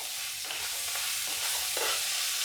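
Cauliflower frying in a pan gives a steady, close hiss of sizzling oil, with soft stirring scrapes now and then.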